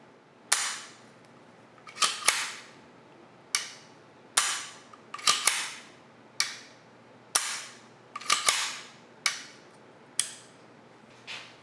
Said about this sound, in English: we'll test the trigger